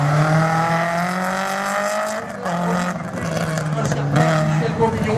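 A slalom race car engine drones and revs steadily at Agon-Coutainville, pitch rising and dipping, with a voice talking over it throughout.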